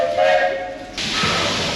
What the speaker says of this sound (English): You will hear one very loud whistle